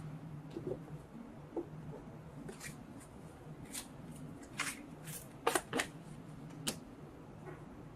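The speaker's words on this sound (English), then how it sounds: "I'm just going to pull cards and see what comes up." Tarot cards are shuffled and pulled during a love reading, giving soft scattered riffles, flicks and sharp card snaps that are close and intermittent in a quiet room, with no speech.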